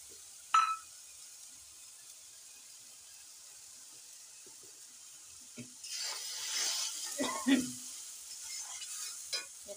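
Tomato masala sautés in a pan with a soft sizzle, broken by a few scraping stirs and clinks from a spoon in the second half, fairly quiet and without talk.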